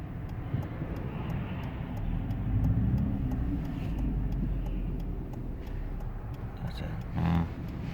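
Steady broadband road rumble of several cars passing on a quiet Sunday road, heard from inside an Alfa Romeo 159 2.2 JTS, continuous and fairly loud with a brighter swell near the end.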